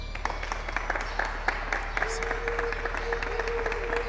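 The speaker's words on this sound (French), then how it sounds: "nous allons le recevoir avec vos acclamations" A church audience applauds to welcome a pastor onto a television set, steady crowd clapping with a low hum and a faint sustained tone underneath.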